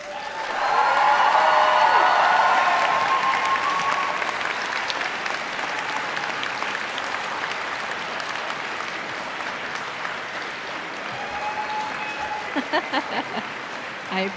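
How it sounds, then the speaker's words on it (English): The graduating class at the Emily Carr University 2023 convocation applauds in a dense, sustained wash of clapping that peaks early and then slowly thins, with a few distinct claps near the end. "reciprocate by applauding your family, friends, faculty, and staff, and all those who helped you reach this goal"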